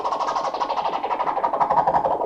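A fast, fluttering rasp scratch on a vinyl record with the DJ mixer's low-pass filter applied, continuous and steady throughout, close and prominent.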